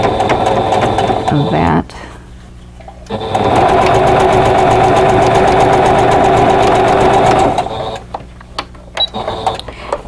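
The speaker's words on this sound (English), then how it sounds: "I'm going to stitch to the right side" A sewing machine stitches a Star Flower quilt block in two loud, steady runs: a short burst at the start, then a longer one, with quiet pauses and a few brief clicks after. A voice speaks briefly near the start.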